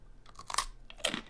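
Close, crisp crunching of a gluten-free pretzel being bitten and chewed, two distinct crunch bursts in quiet surroundings with no talking.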